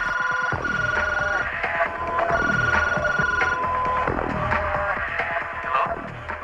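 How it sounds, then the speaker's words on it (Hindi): A landline telephone in a film scene rings for an incoming call, its electronic ring tone repeating in steady bursts. The ringing is loud and continuous, with no talking during it. "राज, लैंडलाइन से फोन करो।"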